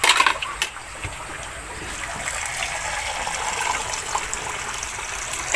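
Water runs in a steady, close gush, like a tap or flush, with a slight splash at the start. It holds an even level throughout, and no one speaks.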